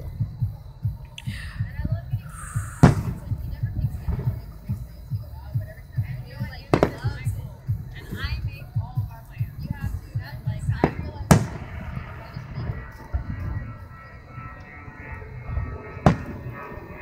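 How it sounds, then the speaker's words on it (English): A summer fireworks display in Grapevine, Texas, seen from a hotel resort. Four sharp, separate bangs ring out at irregular intervals over a steady low rumble, while people talk nearby. "they had a big fireworks display"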